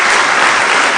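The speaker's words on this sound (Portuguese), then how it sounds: "Dá uma salva de palmas a Jesus." Dense, steady applause from a church congregation during a Portuguese-language sermon, a continuous wash of many hands clapping close and loud with no talk over it.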